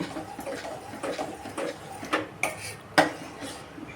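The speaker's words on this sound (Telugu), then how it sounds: "అందుకని ఫస్ట్ పాలు పోసుకొని బాగా కలబెట్టుకోవాలి." Milk being stirred into cooked rice in a metal pot for jaggery rice, heard as a series of close, uneven clinks and scrapes of a spoon against the pot, with soft background noise and no talking.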